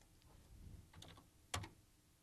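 A few quiet keystrokes on a computer keyboard while working in Adobe After Effects CS3 give soft scattered clicks, then one sharper key press.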